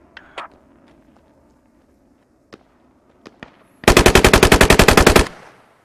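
In the video game Squad, a few scattered single shots and distant pops lead into a loud, close burst of rapid automatic gunfire, around fifteen evenly spaced rounds, which ends with a short echoing tail.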